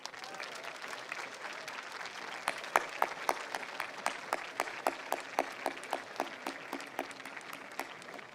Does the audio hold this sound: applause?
yes